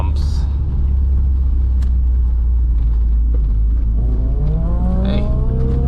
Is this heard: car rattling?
yes